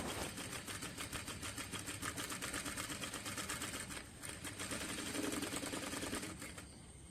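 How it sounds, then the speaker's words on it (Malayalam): A sewing machine stitches a folded cloth edge at a tailoring class. Its steady, fast mechanical chatter runs throughout and pauses briefly near the middle before resuming. "ഫസ്റ്റത്തെ ഭാഗം സ്റ്റിച്ച് ചെയ്ത് കഴിഞ്ഞിട്ടുണ്ട്."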